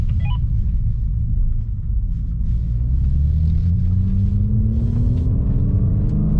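A BMW M4 Competition with a manual gearbox accelerates in second gear from a rolling start. The deep engine rumble rises in pitch and grows over several seconds, loud and steady, with a few faint high blips near the start and no speech.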